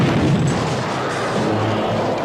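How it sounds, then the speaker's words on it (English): Continuous rumbling bursts of distant gunfire, loud and dense, rolling on without a break. "It sounds like gunfire."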